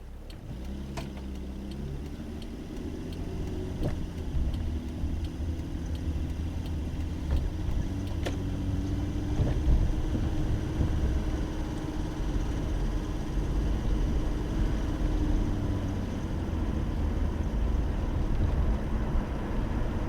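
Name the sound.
car driving through downtown Omaha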